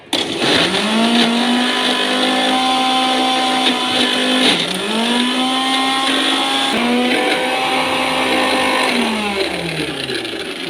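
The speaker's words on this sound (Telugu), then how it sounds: "ఇప్పుడు దీనిని కూడా మిక్సీ పట్టేద్దాము." Mixer grinder whirring as it blends boiled gongura leaves into chutney, loud and close, a strong motor whine that rises in pitch, dips briefly as it restarts, then runs steadily before winding down.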